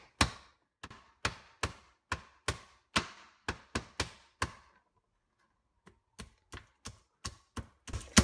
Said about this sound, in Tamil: நம்ம நண்டு ரசம் வைக்கும்போது நண்டை கொஞ்சம் தட்டி வச்சுக்கோங்க.